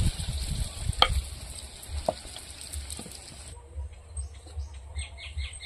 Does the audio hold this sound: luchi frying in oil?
yes